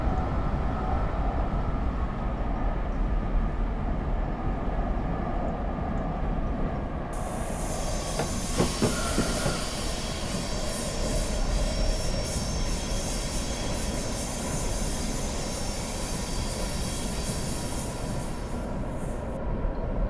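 A train passes in the Train Simulator video game, a loud continuous rumble of wheels and carriages with a metallic squeal and a bright rushing hiss that lasts most of the stretch.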